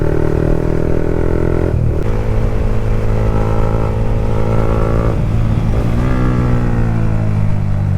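A Yamaha MT-15 motorcycle with a battery drain problem and faulty ABS, heard while riding: a steady close engine drone whose pitch shifts through gear changes, loud and continuous with no talk.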